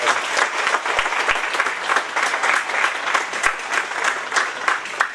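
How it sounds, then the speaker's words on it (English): A school audience at a 9th grade awards ceremony claps steadily in a dense round of applause lasting several seconds, with no talking over it. "let's give yourselves another round of applause"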